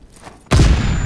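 Sudden burst of gunfire in the World War II shooter game Call of Duty: WW2, a loud booming volley that starts abruptly after a quiet moment and stays dense to the end.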